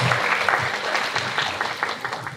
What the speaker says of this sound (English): Let's give Anne one more round of applause.